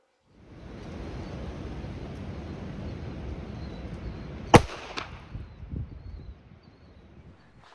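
.45 pistol firing a Hornady 230 grain XTP round into a phone book: one sharp, loud crack near the middle, followed by a couple of fainter knocks and handling sounds over steady outdoor background noise.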